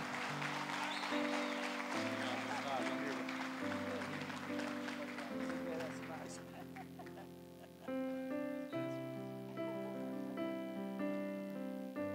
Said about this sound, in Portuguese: uma salva de palmas para os nossos pastores